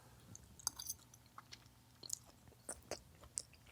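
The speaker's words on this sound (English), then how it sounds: "we're gonna take a bite and see how it tastes" A bite of spaghetti carbonara with peas and bacon is chewed up close, with soft, quiet mouth sounds and small intermittent smacks over several seconds.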